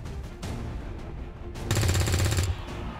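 Rapid automatic gunfire in XCOM 2, one sharp burst of about a second firing in quick succession after a few softer shots, loud and close.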